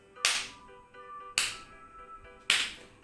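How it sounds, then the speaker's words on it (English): Sarcastic clap from a classroom clapping warm-up: three slow, evenly spaced single claps, each sharp and close with a short ring, separated by near silence. "This is called sarcastic clap."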